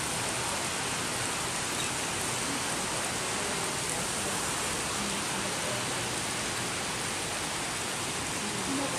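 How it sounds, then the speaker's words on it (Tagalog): Heavy rain pours down steadily and loudly as a dense, unbroken hiss, close by and with no voices over it. "Malakas ng ulan,"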